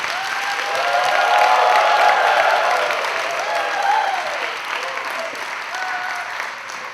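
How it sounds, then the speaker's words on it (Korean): A church congregation at a retreat applauds to welcome a pastor, a sustained wave of loud, dense clapping with some cheering that swells and then tapers slightly, no speech on top. "뜨거운 박수로 목사님 나오실 때까지 환영하겠습니다."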